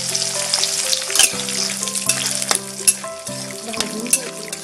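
Curry leaves and peanuts frying in a pan for Kolhapuri bhadang, a busy crackling sizzle with sharp pops and stirring scrapes, close and continuous.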